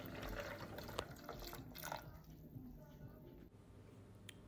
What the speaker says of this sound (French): je vais mettre mon litre d'eau que je recouvre complètement, donc mes noisettes et mes dattes